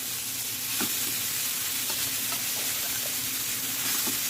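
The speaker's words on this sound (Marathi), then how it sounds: "मी कढईत टाकून घेते आता चारशे ग्राम खवा टाकून घेते" Khoa (milk solids) frying in a kadhai, a steady close sizzle with occasional stirring scrapes and clicks from the spoon throughout.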